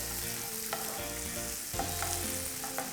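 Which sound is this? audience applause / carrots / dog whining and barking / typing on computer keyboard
carrots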